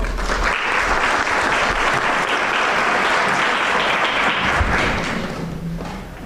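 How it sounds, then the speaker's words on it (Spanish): Loud, dense applause fills a hall at a Women's Day commemoration in Colombia's judicial branch, welcoming the vice president, sustained and steady before tapering slightly at the end. "Un aplauso para ella, por favor."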